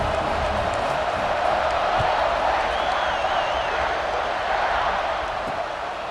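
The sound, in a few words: stadium crowd buzzing, from video game EA Sports College Football 26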